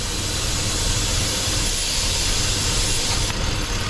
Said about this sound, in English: right here is a vacuum line, and if you remove it, you will be able to hear the air